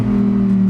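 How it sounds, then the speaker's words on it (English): A 2023 Lamborghini Huracan STO's V10 engine holds a loud, steady droning note up close, a brief unbroken run with no voices. "Oh man, I'm in love with the sound this thing makes."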